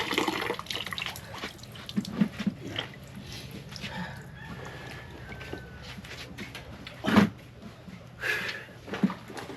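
Tap water runs steadily into a basin for hand-washing laundry at home, a soft continuous splash with a few louder gushes and drips near the end, while a person talks intermittently over it.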